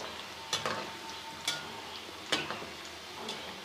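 Besan pieces frying in oil over a medium-low flame: a soft, steady sizzle broken by several sharp clicks and taps, likely a utensil against the pan, near and fairly quiet, with no talk.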